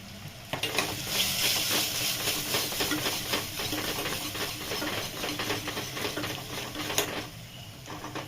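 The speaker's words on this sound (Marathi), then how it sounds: "आता मसाले छान परतले" Spices, including onion-garlic masala, chili powder and chole masala, sizzle and fry in a pan for a village-style chickpea curry, a steady close crackling hiss with occasional stirring scrapes and no talk.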